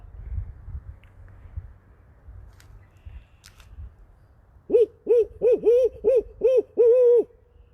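On a spring night at an arboretum, after a few quiet seconds, an owl gives a rhythmic series of about seven clear hoots, fairly close and loud, ending on a longer note.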